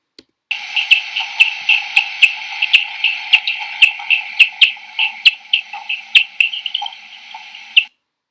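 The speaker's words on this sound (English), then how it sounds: "So what you're hearing is the echolocation of the bat." Bat echolocation calls picked up by a bat detector and made audible: a rapid, uneven train of sharp clicking chirps, fairly loud and close, running steadily for several seconds before stopping abruptly.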